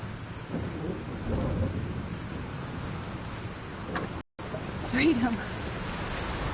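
Thunderstorm in the video game Life is Strange: steady heavy rain hiss with a low rumble of thunder, a brief dropout, then a voice speaking over the storm.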